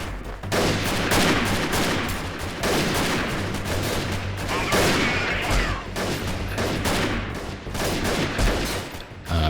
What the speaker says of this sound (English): I'm very interested to see how much damage we're actually able to do with the sniper rifle